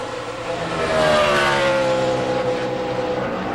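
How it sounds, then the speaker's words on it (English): A 2005 NASCAR NEXTEL Cup stock car, driven by Rusty Wallace, roars past on a qualifying lap, its engine note swelling loud and steady with a falling pitch as it sweeps by. "pretty good lap right there by Rusty Wallace"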